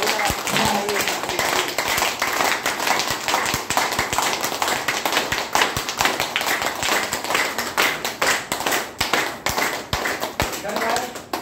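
Loud, dense clapping from a crowd at a DXN business speech in Malangawa, Sarlahi, Nepal, a rapid continuous patter of hands that stays strong throughout.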